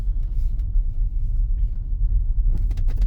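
A 2022 Long Range Tesla Model Y driven on the road gives a steady low rumble of tyres and road noise from inside the cabin, with a few faint clicks near the end.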